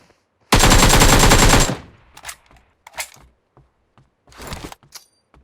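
A long burst of automatic gunfire rattles loudly in PUBG Mobile, followed by scattered single shots and shorter bursts at varying distance, with no talk.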